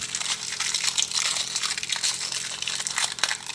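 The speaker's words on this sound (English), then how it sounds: "Noisy cellophane." Cellophane wrapper crinkles and crackles steadily as it is peeled off a toy mini quadcopter drone's packaging, a close, dense rustle running throughout with brief sharper crackles.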